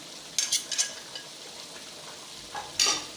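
A spoon stirs ground red chili, coriander and cumin into an Afghani biryani pulao mixture in a pot, giving a few short scraping, sizzling strokes with a quiet pause between them.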